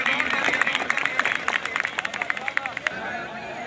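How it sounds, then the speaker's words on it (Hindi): A crowd at a Punjabi sporting event claps loudly, a dense spatter of hand claps that thins out toward the end, with a voice and crowd chatter underneath. "जोरदार तालियां जी"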